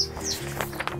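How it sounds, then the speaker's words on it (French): A young blackbird begs for food with a few thin, high chirps over a quiet indoor hum and light rustling. "petit merle qui réclame."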